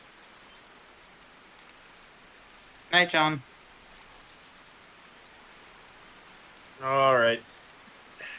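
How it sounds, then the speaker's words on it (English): Steady rain ambience from the Metal Gear Solid 3 video game, a soft continuous hiss of falling rain that runs throughout, broken by two short bursts of speech. "we got these soothing rain sounds that are gonna lull me to sleep"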